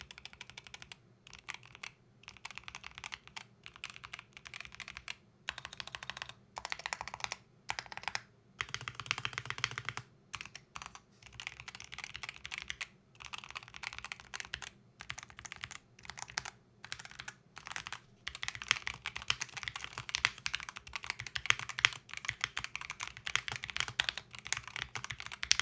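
Steady typing on a SteelSeries Apex Pro Wireless Gen 3 keyboard with Hall effect switches and dampening foam, a close run of soft, even keystrokes with brief pauses and no talking.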